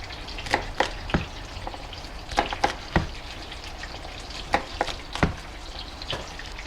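Chicken cooks in a pan over medium-high heat, giving a soft continuous sizzle broken by irregular crackles and clinks of stirring, close and without talking.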